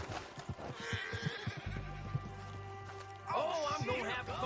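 Hooves clip-clop rapidly, then a horse gives a shrill, wavering neigh near the end, in the video game Red Dead Redemption 2 Online, with talking in the background.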